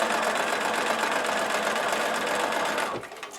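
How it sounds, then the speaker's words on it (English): Sewing machine stitching strips of patchwork fabric, a steady continuous motor whir and rapid needle chatter running loud and close for about three seconds before cutting off abruptly. "I'm just going to sew, oops, and continue right on to this piece."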